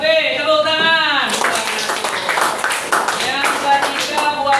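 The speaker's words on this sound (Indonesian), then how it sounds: "Yang kedua buat kelompok B. Tepuk tangan." Classroom group clapping during a lively learning activity, a burst of brisk hand claps that starts just after a spoken line and continues with uneven rhythm, mixed with voices and some tapping.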